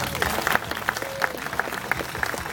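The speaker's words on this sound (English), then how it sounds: "this round of applause is for you" Audience applause at a Kentucky State Fair escape-artist show, a short steady patter of clapping for a volunteer, moderately loud with a faint crowd murmur beneath.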